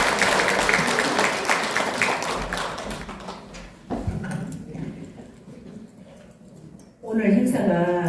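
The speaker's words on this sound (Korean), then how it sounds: "힘찬 박수로 맞이해 주시면 감사하겠습니다." Audience applause fills a hall at a Korean award ceremony and forum for outstanding legislators, a dense steady clapping for about four seconds that fades as a voice begins speaking.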